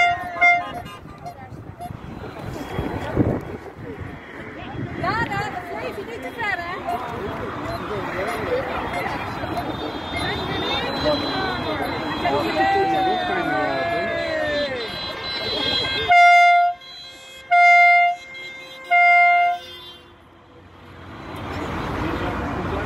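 A convoy seen from a highway viaduct in Waalwijk, with moving traffic and voices at first, then a vehicle horn sounds three long loud blasts close by.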